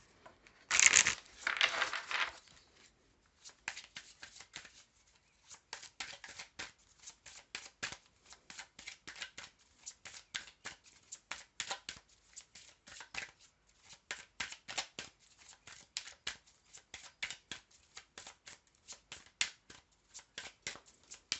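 Oracle cards are shuffled by hand, a dense riffle at the start followed by a long run of soft, quick card flicks and slides, close and quiet.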